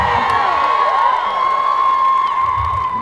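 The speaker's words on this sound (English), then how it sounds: "That is more applause than a lawyer usually gets." A crowd at a transgender rally cheers, whoops and applauds, with high voices and shouts carrying over a steady roar throughout.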